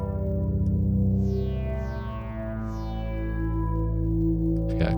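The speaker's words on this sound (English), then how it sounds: "So let's add a little reverb maybe." An analog synth pad in Ableton with reverb added, a sustained harmonic chord ringing steadily, repeated swelling sweeps washing through it and a lingering reverberant tail, with a brief crackle near the end.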